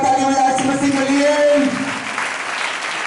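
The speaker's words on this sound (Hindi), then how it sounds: "एक बार जोरदार ताली बजाओ यीशु मसीह के लिए" A church congregation claps loudly and steadily during a worship service, sustained applause throughout, with a voice speaking over it at first.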